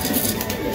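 Racing pigeons cooing inside their loft, a soft, continuous low murmur of several birds close by.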